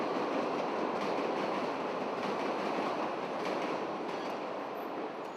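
An elevated train on the Chicago Loop rumbles along its tracks at steady volume, with a broad rushing roar and faint rhythmic clatter of wheels, no voices.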